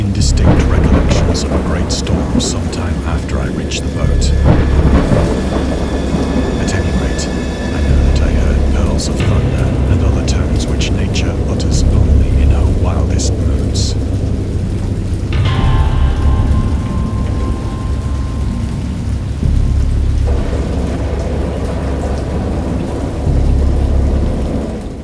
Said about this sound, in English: Indistinct recollections of a great storm sometime after I reached the boat.